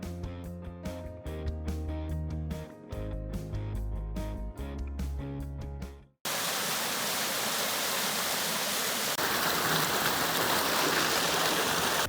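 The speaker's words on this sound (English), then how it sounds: "There are beautiful falls along the way," After about six seconds of music, a steady broadband rush of waterfalls along a river in the New Hampshire woods fills the rest of the clip, continuous and close.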